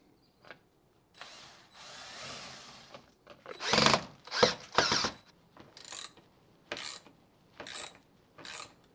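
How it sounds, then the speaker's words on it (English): A power drill driving lag bolts through a bracket into anchors or wood, heard as several short bursts of whirring and ratcheting, separated by brief pauses and a few clicks, up close and clear with no talking. "you're going to sink them into your anchors or your wood"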